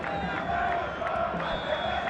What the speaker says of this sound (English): Zimbabwean supporters, they singing beautiful in the crowd.